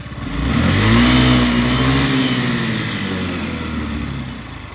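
A Honda Tact AF79 fuel-injected scooter engine, imported from Japan, runs steadily at close range for several seconds with a smooth, even hum that swells slightly early on and then settles. Nobody speaks over it.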